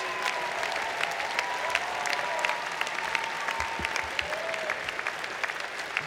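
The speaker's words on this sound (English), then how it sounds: "give all these people a round of applause, please" A large audience at an engineering graduate commencement ceremony applauds steadily, a continuous fairly distant wash of clapping with occasional sharper claps standing out.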